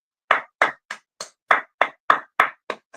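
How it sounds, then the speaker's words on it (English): Round of applause played on a morning radio show: about eleven sharp, evenly spaced claps, each a crisp separate hit, close and fairly loud, with no talk over them. "let's give SennyJ a round of applause for those nails"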